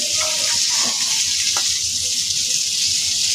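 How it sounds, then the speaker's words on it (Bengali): Magur catfish fries crisp in a pan of oil, giving a steady close sizzle with a few faint stirring clinks. "এখানে মাগুর মাছ আমি কড়া করে ভেজে নিচ্ছি।"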